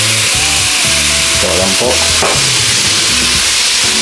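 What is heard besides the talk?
marinated pork dropped into hot oil, sizzling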